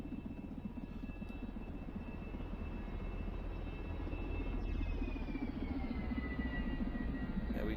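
A steady, loud whine and roar from an aircraft engine in the SimplePlanes VR flight game holds level throughout, swelling slightly as the thrust-vectored plane picks up speed.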